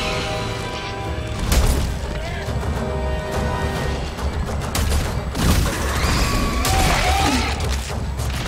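In Dead Space 3, a weapon fitted with an explosive attachment fires, each shot a loud blast with a crashing boom, set among metallic in-game clatter and rumbling effects.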